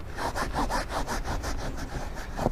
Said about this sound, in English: giving a little scrubbing with the additional brush that it has.